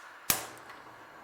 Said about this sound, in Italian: accendiamo il gas